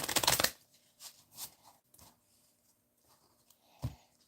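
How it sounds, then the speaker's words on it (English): Strat-O-Matic baseball game cards are shuffled by hand: a loud riffling burst, then several softer, shorter shuffling patters, close and clear. "we can just shuffle these cards and have some fun"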